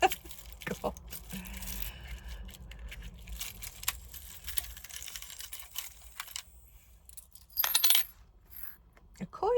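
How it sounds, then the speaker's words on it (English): Small metal coin charm from a tarot reading set drops and clinks onto a small cluttered table, a few brief close taps and rattles over quiet room noise. "A coin? I don't often get the coins."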